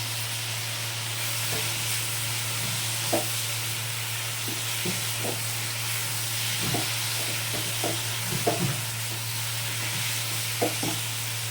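Potatoes stirred into a frying spice paste for an aloo paneer curry, giving a steady close sizzle with repeated scraping knocks of the spoon against the pan and a low constant hum beneath.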